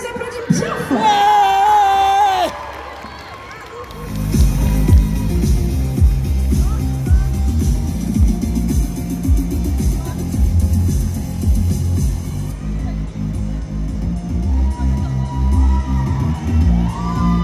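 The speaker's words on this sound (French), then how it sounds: "On les applaudit bien fort." A crowd at a Paris Manga cosplay show applauds and cheers cosplayers dressed as Ruby and Kanan from Love Live Sunshine on stage; a short musical tone opens, then dense, steady clapping and cheering fill the rest.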